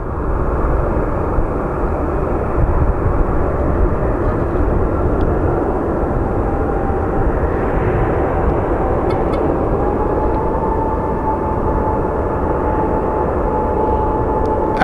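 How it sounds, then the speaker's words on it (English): A Prime Air cargo plane departing an international airport, its engines a loud, steady broadband roar that holds strongly for the whole stretch, heard from nearby outdoors with no talk. "Our plane that's departing next is going to be Prime Air."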